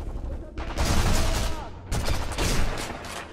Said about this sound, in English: I'm just shooting. I'm getting shot from the right.